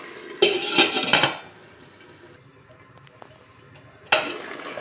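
A lid goes onto a cooking pan with a burst of metallic clatter and scraping, then a quiet pause, then another clang near the end.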